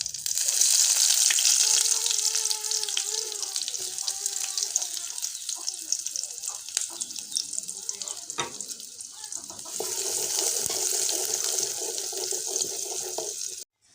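Whole cumin and chopped onion frying in oil for dal, a bright hissing sizzle that softens midway then surges again, with a faint voice early on and clattering utensil sounds.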